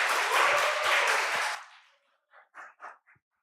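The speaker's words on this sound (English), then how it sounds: "Round of applause, everybody." Audience applause for a speaker at a student talk event, a dense burst of clapping for about a second and a half that fades out, followed by a few soft sounds.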